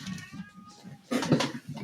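A house cat meows indoors, a short loud call rising near the end of the clip over low background rumble and faint clatter.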